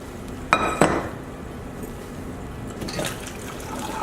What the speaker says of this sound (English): Drain the potatoes and then make mashed potatoes.